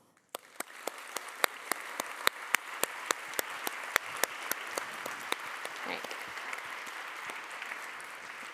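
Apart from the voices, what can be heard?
audience applause for the summit volunteers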